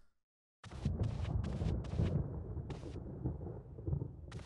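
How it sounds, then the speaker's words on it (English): Thunder in the Resident Evil video game: a deep, loud rumbling roll that starts after a brief silence and continues heavily with crackling bursts throughout. "that thunder is loud"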